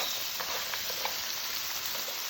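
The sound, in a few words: food sizzling in a skillet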